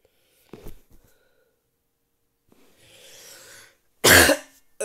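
Two sharp coughs stand out against near silence, one early and a louder, harsher one later, with a soft breathy rustle between them.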